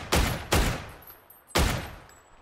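Three heavy gunshots in the battle royale game PUBG, two in quick succession then a third after a pause, each close and booming with a short decaying echo.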